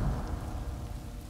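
Steady rain with a low thunder rumble fills the Dawn of Man game soundscape, heard briefly and at a soft level with no talking.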